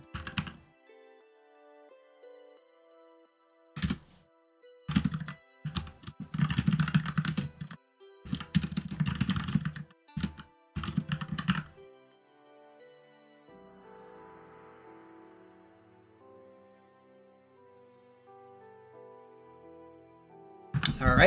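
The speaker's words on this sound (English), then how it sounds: "the keyboard typing there" Computer keyboard typing during an online fighting game tournament stream, bursts of close, rapid key clatter in several clusters separated by pauses, with a quiet low hum between bursts and no talk.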